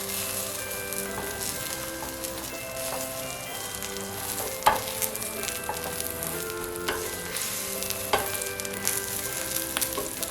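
Korean-style omelette frying in oil in a pan, a steady close sizzle with faint crackles and a few light clicks of a utensil, no talking.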